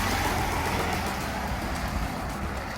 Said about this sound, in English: Except when car starts driving past you and you can hardly hear yourself.